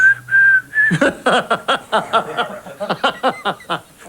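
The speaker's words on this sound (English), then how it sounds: "Can you whistle God Save the Queen now with a straight face?" A clear, melodic whistled tune of God Save the Queen with steady, stately phrasing, starting with a few held notes and then moving through a quick, rhythmic run.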